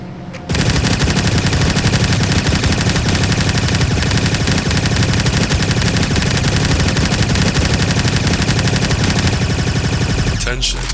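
An M60 upgraded into the Undying Patriot fires in Korrupt Zombies, a video game: loud, sustained automatic bursts run almost unbroken for about ten seconds before cutting off abruptly.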